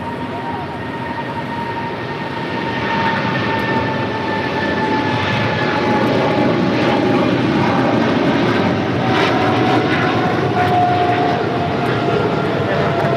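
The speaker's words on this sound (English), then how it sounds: "We do have the Aerologic 777 freighter now rolling down to 25 right." An Aerologic Boeing 777 freighter rolls for takeoff on runway 25 right at LAX, a steady broad jet roar that swells after the first few seconds and holds at a distance, with faint whining engine tones.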